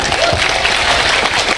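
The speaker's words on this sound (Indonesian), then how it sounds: "tepuk tangan tuh Kak Igun." An audience at an Indonesian religious talk applauds, a loud steady wash of clapping filling the moment with a faint voice underneath.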